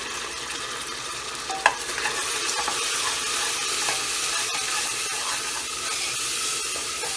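Spices (chili, coriander, turmeric and salt) are stirred into onions, garlic and ginger frying in a pan for aloo gobi, giving a steady sizzle, with one sharp scrape of the spoon early on and quieter stirring throughout.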